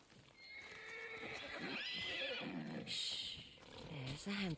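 Horses whinny repeatedly at close range in the Ghost of Yotei video game, with clip-clop hooves and a voice speaking over the neighs amid ambient game sound.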